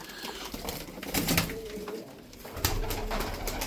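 Tumbler pigeons coo softly amid fluttering and shuffling noises, close by, with no talking.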